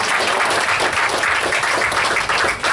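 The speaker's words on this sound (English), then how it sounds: "Big round of applause for Sean." An audience at a new CVS pharmacy opening in the Lower Ninth Ward applauds the store manager, giving dense, steady clapping throughout that sounds loud and close, with no pauses.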